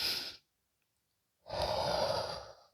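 Two breaths during a yoga exercise: a short exhale at the start, then after a pause a longer, louder, close breath out lasting about a second, with no talking.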